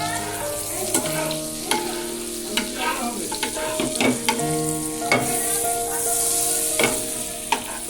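Food sizzles steadily in a hot pan as it is turned and stirred, with repeated clinks and scrapes of a spoon against the metal rising above the frying hiss, close up and fairly loud.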